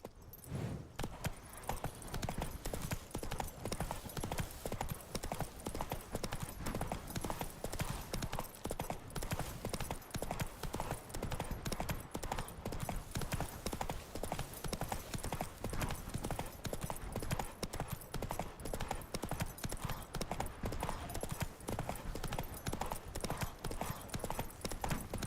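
Hoofbeats of Roach, the horse in The Witcher 3 game, drum in a fast, unbroken gallop close up for a long stretch, with faint game ambience and a hint of whinnying.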